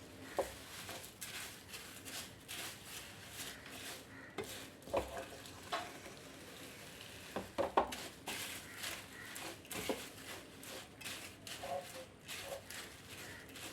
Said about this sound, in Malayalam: നന്നായിട്ട് ഇളക്കി യോജിപ്പിച്ച് കൊടുക്കാം.